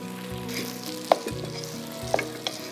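Soaked polao rice tipped into a hot pot of oil for beef tehari gives a steady close sizzle, with a few sharp clinks of a spoon against the pot over a low, even hum.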